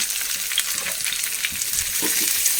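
Chopped onions frying in hot coconut oil, a steady close broadband sizzle with faint crackles and occasional stirring scrapes, continuous throughout with no talking.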